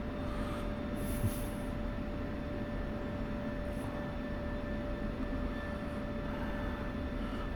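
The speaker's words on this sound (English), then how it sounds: "Be a dry power takeoff at this weight in the F-16." An F-16 jet engine holds a steady, loud roar on the runway before a dry-power takeoff in the DCS flight simulator, with a constant drone and a faint high whine throughout.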